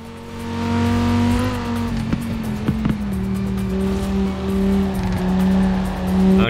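A car in the racing game Forza Horizon 4 drives with a steady loud engine hum that rises and falls in pitch through gear changes, with brief thumps and tire noise, alone with no talk.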